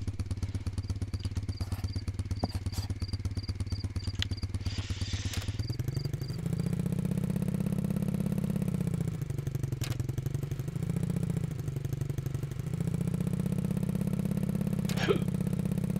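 Motorcycle engine in Russian Fishing 4, idling steadily at low pitch, then revving up and easing back in several swells, close and continuous with faint clicks over it.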